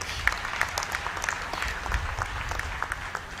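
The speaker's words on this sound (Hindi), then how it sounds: "मेरी बात सही हो तो ताली बजाइए, गलत हो तो मत बजाइए।" Crowd applause at an outdoor BJP election rally, a steady spread of many hands clapping at once with scattered sharper claps, moderately loud and without speech over it.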